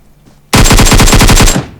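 An AKM rifle fires a loud, rapid automatic burst of about a dozen shots lasting roughly one second in the mobile game PUBG Mobile, heard up close with no talk.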